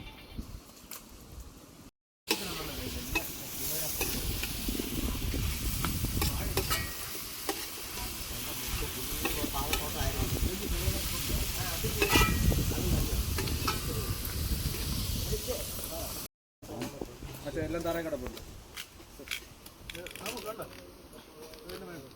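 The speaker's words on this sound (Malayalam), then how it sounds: "കടുക് പൊട്ടുന്നു" Mustard seeds splutter and sizzle in hot oil, a continuous crackling fry with stirring, under intermittent talk, broken by brief gaps.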